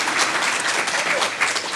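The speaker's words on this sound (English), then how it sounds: "Yes, please give him applause." Audience applause fills a Humble ISD school board meeting, with a brief, steady stretch of dense clapping and no break.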